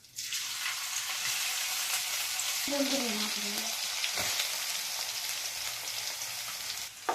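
Ginger and green chili with asafoetida and cumin hit hot oil in a home kitchen, producing a steady, bright sizzle with a brief clatter partway through and no voices.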